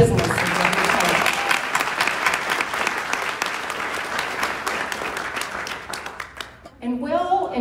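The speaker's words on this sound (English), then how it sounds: "So let's give our new business a round of applause." Audience at a city's annual State of the City address breaks into sustained applause, loud and dense for several seconds before thinning out, with a voice starting to speak as it fades.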